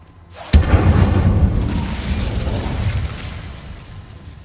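An Incendio fire spell in Hogwarts Legacy erupts with one sudden, loud booming blast after a brief hush, then a rumbling roar that slowly fades over a few seconds.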